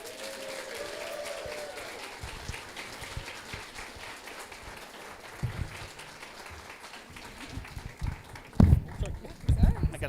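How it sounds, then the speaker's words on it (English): An audience applauds an honoree at a bicycling league's annual advocacy and education awards ceremony. Soft, steady clapping sits under talk, with a few louder knocks and handling bumps toward the end. "Please give a big round of applause for Megan Ramey"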